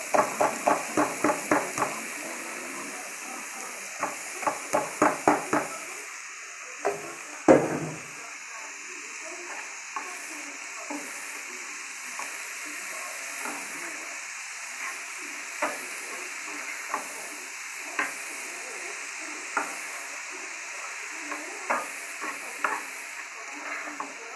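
Spices fry in a hot pan with a steady hiss, cut by a run of quick, regular scraping strokes as they are stirred, then sparser stirring knocks; faint speech sits in the background.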